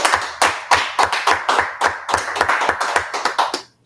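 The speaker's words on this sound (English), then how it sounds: "Let's go ahead and clap it up." A class clapping together, fast steady rhythmic claps close by and loud, about a dozen in quick succession before stopping abruptly, with no talking.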